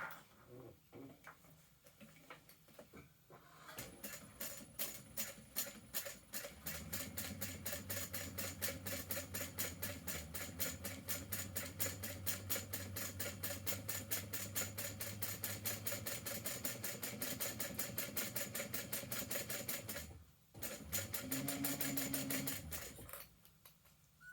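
A sewing machine top stitching a fabric sling, starting with a few separate clicks, then running in a fast steady rattling burst for about fourteen seconds, pausing briefly, and resuming for a short final run, close and clear.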